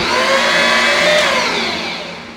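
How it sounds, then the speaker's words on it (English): An electric mixer beats a fresh egg into batter, giving a loud, close whining drone that rises and falls slightly in pitch across about two seconds, with no voices. "So we're gonna get that egg in there, and I'm gonna mix that up."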